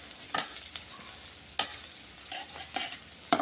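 Onion sautéing in a pan with mustard seeds, urad dal and fennel, a steady low sizzle broken by several sharp stirring scrapes and clatters of the spoon, close by with no talking.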